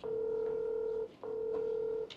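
Two long telephone dialing tones sound in sequence, each a steady electronic beep lasting about a second with a short gap between, close and clear with no talk.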